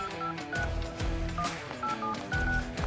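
Touch-tone keypad beeps sound in a quick irregular sequence as a phone dials its own number, each tone short and clear over a steady low background hum.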